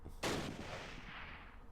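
A single mortar shot in the WWII war game Close Combat Last Stand Arnhem, a sharp boom that rings out and fades in a long echoing tail, heard alone with no talk.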